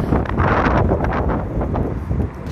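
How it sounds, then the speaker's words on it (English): Strong wind on the Isle of Skye buffeting the microphone in loud, low rumbling gusts, with no voices. "Windy here."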